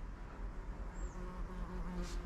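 A hornet flies near its papery nest tucked into a crack. It makes a faint, steady buzz amid constant background noise, with no talking.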